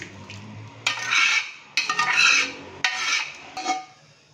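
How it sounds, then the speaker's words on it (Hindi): Boiled mutton being transferred into a karahi pan: three or four bursts of scraping and clattering metal utensil against the pan, each lasting under a second, fairly close and moderately loud with no talking. "तो अभी हम इसको कढ़ाई के अंदर ट्रांसफर करेंगे"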